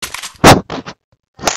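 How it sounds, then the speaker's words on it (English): A pistol gunshot in a video game: one loud, sharp broadband crack, followed by a few shorter bursts and then a second, fainter report after a pause. "Let me just pull out the pistol."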